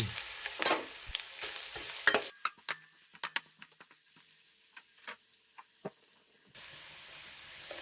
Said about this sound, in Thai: ก่อนอื่นเจียวหอมแดง แล้วตามด้วยกระเทียม